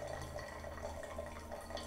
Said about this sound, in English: So you can control your pour easily.